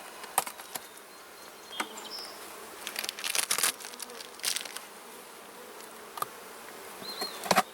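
Close honey bees buzzing and droning around a hive during a nuc installation, with scattered clicks and rustling knocks throughout; a busy, continuous hum with occasional louder passes.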